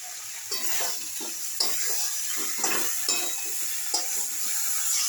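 Spiced potatoes frying in a pan for a vegetarian aloo dum, with a splash of water added so the spices don't burn; steady close sizzle broken by repeated scrapes and clinks of a spatula stirring.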